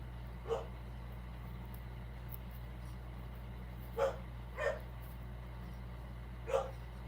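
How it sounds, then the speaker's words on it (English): A few distant dog barks ring out sparsely, one early and three more later, over a steady low hum. "My dogs, you can hear in the background, are barking."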